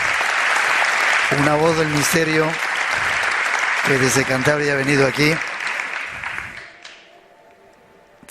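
Loud audience applause at a Zamora gathering for a guest from Cantabria, sustained clapping from a crowd that runs under a man's speech and then fades away near the end.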